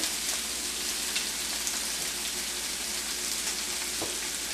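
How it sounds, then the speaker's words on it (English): Meat and onion fry in oil in a pan, giving a steady, dense sizzle with a faint crackle that holds evenly throughout, close and fairly loud, with no voices. "I've got my meat and my onion, and I'm just going to add that right in to my frying pan."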